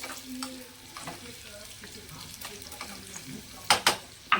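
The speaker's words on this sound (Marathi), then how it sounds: "ही फोडणी ना चांगली अशी भाजून घ्यायची" Ginger tempering for dal tadka crackles in oil over a low gas flame, a gentle steady sizzle with scattered stirring scrapes and a few sharper pops near the end, close by.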